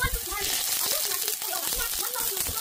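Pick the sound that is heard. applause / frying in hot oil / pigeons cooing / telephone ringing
frying in hot oil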